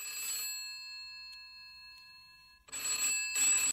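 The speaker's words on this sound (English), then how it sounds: "He was just about to lift the receiver when it rang." An old telephone bell rings in a 1998 audio dramatisation: one long electronic ring that fades out, a pause, then two more short bursts of ringing, clear and close with no voices.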